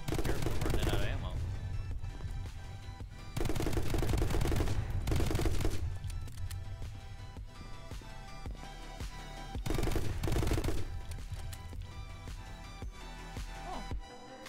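Gunfire from the side-scrolling shooter My Friend Pedro, set in the sewers, comes in dense loud bursts with pauses between them, layered over steady game music.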